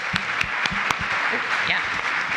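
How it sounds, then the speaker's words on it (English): An audience at a community crowdfunding event applauds a presenter with scattered, fairly close hand claps, while a voice talks over them. "A round of applause for Wendy."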